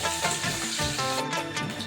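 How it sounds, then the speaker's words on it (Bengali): Pomfret fish fry in hot oil, giving a loud, continuous sizzle with bubbling crackles that rise and fall close by. No one speaks. "এখন আমি পমফ্রেট মাছ রান্না করছি। সকালে বাজার থেকে পমফ্রেট মাছ এনেছে। মাছ এখন ভাজছি।"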